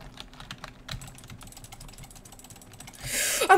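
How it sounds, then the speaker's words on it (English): Rapid clicking on a computer keyboard during a Roblox Islands minigame, close and fairly quiet, a fast irregular patter of keystrokes that ends in a louder burst of noise. "I'm clicking so fast."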